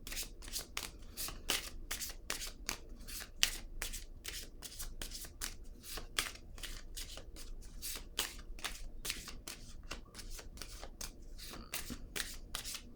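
Tarot cards being handled and shuffled close up, a rapid, steady series of crisp riffling slaps and swishes repeating throughout with no talk.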